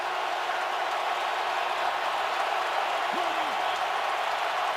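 A loud stadium crowd roars at a Packers vs Cowboys NFL divisional playoff game on third down, a steady dense wall of cheering noise that holds without break throughout.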